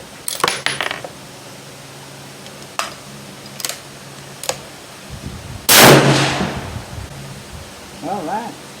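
A Seekins Havak Bravo rifle in 6.5 Creedmoor fires outdoors at a 25-yard range: one loud, sharp, close report with a short decay, among sparse clicks and handling noises, with someone speaking briefly at the end.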